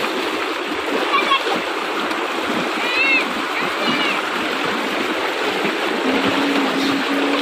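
Water from a running tube well in a village orchard, gushing and splashing in a steady continuous rush, close and fairly loud, with faint voices and birds behind it.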